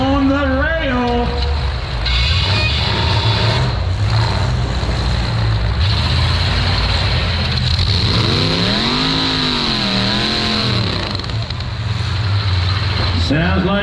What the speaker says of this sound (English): Sounds like Dawn's transmission could be slipping